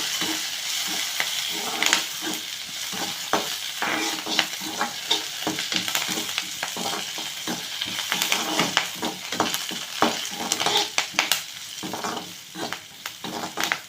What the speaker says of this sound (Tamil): இது கூடவே ஒரு புடி கருவேப்பிலை ஆட் பண்ணிக்கலாம் ஆட் பண்ணி இதையே நல்லா வதக்கிக்கலாம்